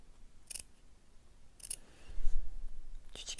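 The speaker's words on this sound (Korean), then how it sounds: "그래서 고기는 곡선마다 가위집을 좀 주셔야 합니다" Scissors snip notches into the curves of cotton lining fabric for a doll's teddy bear hat, three short crisp cuts spaced about a second apart, close and fairly quiet with a little soft handling noise between.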